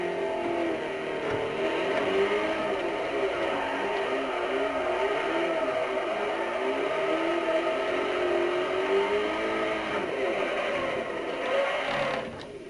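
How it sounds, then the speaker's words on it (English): Drift car engine held at high revs in Forza Motorsport 4, rear tires spinning up under power; a steady, loud droning whine with wavering pitch runs unbroken throughout, no talking. "when I press the power down, it takes a lot for the back tires to spin up"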